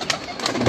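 Pigeons kept by a high-flyer pigeon fancier coo softly in a loft or coop, a few low murmuring calls close by over a hum of background noise.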